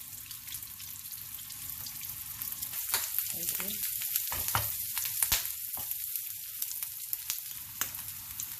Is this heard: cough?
no